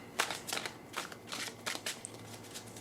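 Cards riffled and shuffled in a series of quick, crisp bursts, close up and fairly quiet, with no talking.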